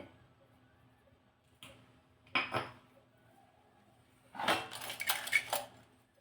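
Prawns being mixed with turmeric, salt and lemon juice in a bowl, heard as a few short clinking bursts of a utensil against the dish separated by quiet gaps, with a longer busier spell of clatter near the end.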